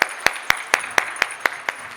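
Steady rhythmic hand clapping in a hall during an audience warm-up, with sharp evenly timed claps roughly four per second over two seconds, clear and unaccompanied by speech.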